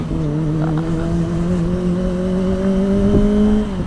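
A motorbike revs steadily on an open road, its engine tone holding high and close for a few seconds before easing off at the end, with no talk over it.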